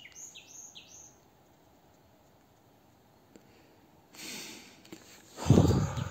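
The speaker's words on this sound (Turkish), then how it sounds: "Kuşun sesine bakar mısınız abi ya?" Birds in a forest give a few short, clear chirps near the start, then quiet woodland ambience with a burst of rustling and close breathy noise toward the end.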